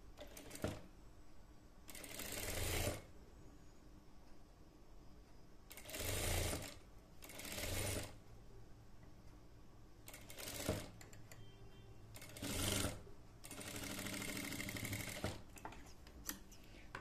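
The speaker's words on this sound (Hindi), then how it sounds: "अब हम इसको सिल लेंगे फ्रेंड्स।" A sewing machine stitches a satin bonnet in several bursts of fast whirring, each a second or two long with quiet gaps between, close and fairly soft, no voices.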